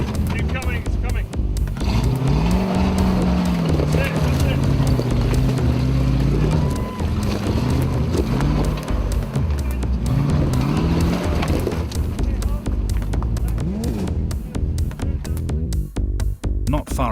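Off-road rally car 42 crawls over loose lava rock in the Rhino Charge, its engine revving and straining loudly throughout, with rocks crunching and knocking under the tyres and voices talking over it.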